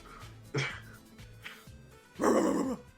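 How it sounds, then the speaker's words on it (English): A dog barks a few times in the background during an online game session, with two short bursts near the start and a louder, fuller burst near the end, faint and somewhat distant. "Is there a dog?"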